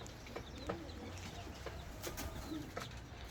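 Kelebek pigeons in a loft in Bursa coo softly and flap their wings, with scattered short wingbeat bursts and low coos over a quiet background, fairly faint and close.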